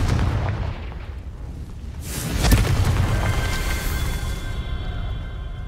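Confringo fire spell exploding in the video game Hogwarts Legacy, a deep booming blast with a sharp crack at its peak, then a lingering rumble and ringing tones as it fades.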